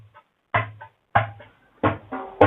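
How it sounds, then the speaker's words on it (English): Muted ghost notes on a conga drum, struck with three fingers resting on the membrane, sound as four short, soft, damped taps spaced about half a second apart, alone and close. "So this is called as ghost sound, ghost note, because it can be heard a little bit"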